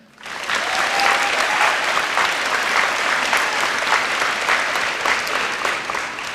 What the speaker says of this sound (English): I don't know if you heard me over the applause